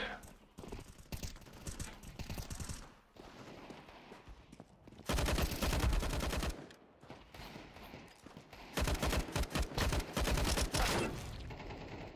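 Gunfire from weapons in Counter Strike 2 comes as loud, rapid automatic bursts in two long stretches, with quieter shots and game noise between them.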